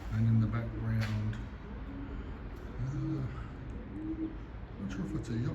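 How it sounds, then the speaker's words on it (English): Pigeons cooing near a big riverside bridge on the Leven River at Ulverstone, low repeated coos in several bursts over steady outdoor background noise, with a voice talking at times. "A few more pigeons"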